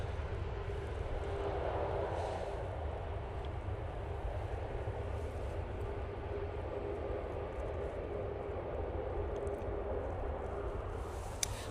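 A Ryanair Boeing 737-800 arriving from Bucharest at Manchester Airport, heard as a steady, fairly distant jet rumble that holds evenly throughout without any speech.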